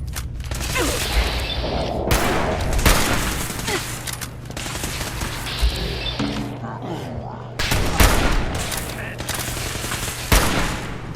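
Hunting rifle fire in the video game Fallout 4 comes in loud, repeated sharp bangs amid dense battle noise with other gunfire, rumbling and clanking over several seconds.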